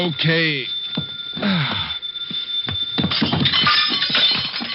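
In a 1950 old-time radio detective drama, a lamp crashes and breaks as a sound effect amid actors' voices. The narrow-band recording has a clattering, smashing burst toward the end.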